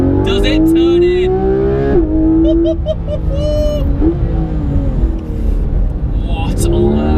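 A Porsche 991 GT3 RS engine screams loudly from inside the cabin, climbing through high revs, dipping at gear changes and rising again, with a voice talking faintly underneath.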